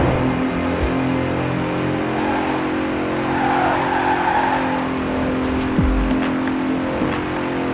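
A 2017 Bentley Continental Supersport grand tourer in the racing game Forza Horizon 4 drones steadily at speed, its engine note loud and continuous with tire squeal and brief skidding rising over it.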